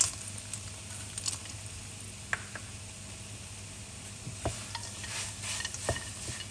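Pineapple jam with sesame and peanuts being stirred in a pan, a soft steady scraping and gentle sizzle with a few sharper clicks of the utensil, close and fairly quiet, with no talking.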